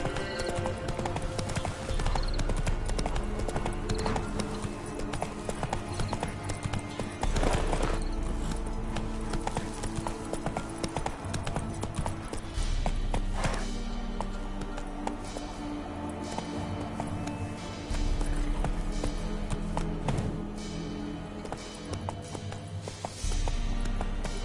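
Rapid rhythmic hoofbeats of a horse galloping in the Witcher 3 video game, loud and continuous throughout, with no talking.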